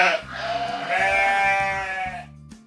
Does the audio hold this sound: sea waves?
no